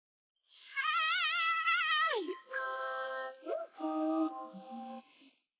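A cat lets out a long, drawn-out wavering meow followed by several shorter complaining meows, close and loud with no other sound.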